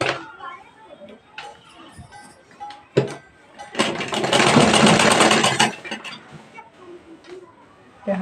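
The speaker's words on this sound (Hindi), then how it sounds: "यहाँ पर एक बूट की सीधी सिलाई लगाना है।" A sewing machine stitching a blouse placket runs in a steady, whirring burst of a couple of seconds, framed by quieter fabric handling and soft clicks at close range.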